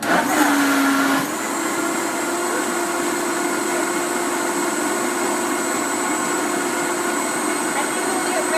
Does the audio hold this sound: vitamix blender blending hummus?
yes